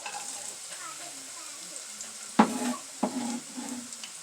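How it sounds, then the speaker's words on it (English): Onions drop into a hot pan for a coconut curry salmon dish, bursting into a loud sizzle with two sharp hits followed by stirring scrapes over a steady background frying hiss. "it's time to add our onions in"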